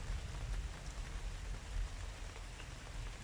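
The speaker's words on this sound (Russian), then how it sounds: "Дождик идет и идет." Steady rain falls on a garden, a dense, even patter of drops on surfaces held close and continuous throughout, with no voices.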